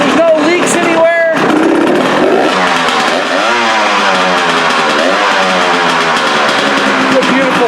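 A Husqvarna TE 300 two-stroke motorcycle engine idles and warms up close by, a loud, steady buzzing putter with slight pitch wavers, running continuously throughout.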